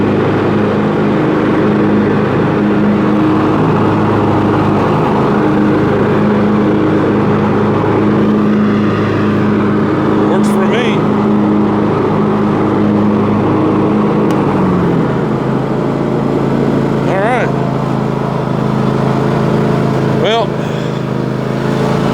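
A John Deere GX255 riding mower runs steadily with its mower deck engaged, a loud, continuous close engine drone with a shift in pitch partway through and brief higher whines.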